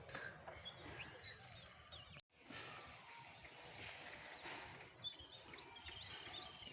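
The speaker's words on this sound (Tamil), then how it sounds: "இந்த சைடு பாருங்கள் குருவிங்க சத்தம் கேட்குது" Sparrows chirp and tweet intermittently in an open village setting near a sugarcane field, fairly faint over a low background hiss, with a brief dropout partway through.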